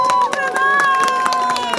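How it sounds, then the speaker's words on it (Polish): An audience at a city event gives applause for a group of girls: rhythmic crowd clapping mixed with cheering and a sustained voice over it. "Jeszcze raz proszę o duże brawa dla dziewczyn."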